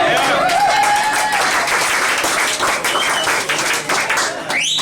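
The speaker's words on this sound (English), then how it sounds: "Somebody clap up." A crowd at a Kissmas Masquerade holiday show claps and cheers loudly and steadily for about five seconds, the dense applause fading slightly near the end.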